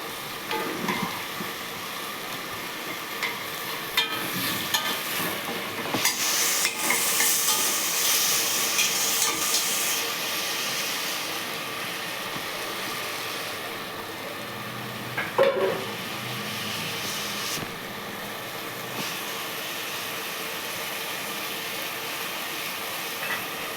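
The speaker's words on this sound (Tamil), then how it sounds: "கல் உப்பு போட்டுக்கலாம். தக்காளி வெங்காயம் வதங்குறதுக்கு." Tomatoes and onions with rock salt sizzle softly in a pan as they sauté, with occasional stirring clinks against the pan and no talking.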